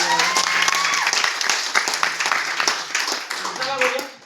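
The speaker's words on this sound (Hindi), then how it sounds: "एक बार जोरदार तालियां" A seminar crowd at a network-marketing event in Udaipur breaks into loud, energetic clapping, rapid overlapping claps close by, with whistles and a voice calling out over the applause.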